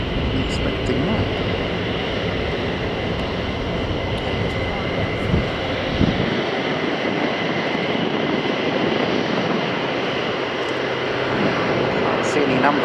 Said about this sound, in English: there's a Hercules coming over.